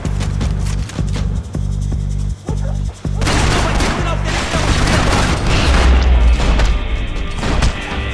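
Gunfire and heavy impacts in the video game Max Payne 3, a few sharp separate blasts at first, then a dense, loud barrage of shots and crashes filling the rest of the scene.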